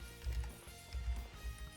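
A horse galloping in Dynasty Warriors 8, its low, muffled hoofbeats rolling in quick repeating bursts, steady and moderately close.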